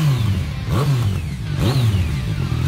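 A BMW S1000R motorcycle fitted with a blacked-out SC Project full exhaust system idles close by and loud, blipping its throttle in two or three quick revs that rise and fall.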